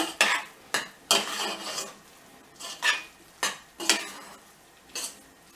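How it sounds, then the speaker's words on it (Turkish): A spoon stirring bulgur pilaf in a pot, close scraping strokes against the metal arriving in irregular sweeps with a few sharp clinks, faint sizzling underneath. "şöyle bir karıştırıyorum"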